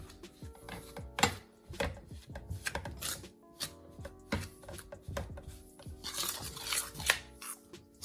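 A spoon works through pastry dough and butter for Jamaican ackee and saltfish patties, giving a steady run of close scraping, clicking and knocking strokes against a bowl, with no talking.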